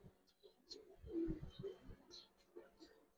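Gribaz and coloured pigeons coo softly in short, low, throaty bursts, with faint chirps nearby and a voice talking underneath.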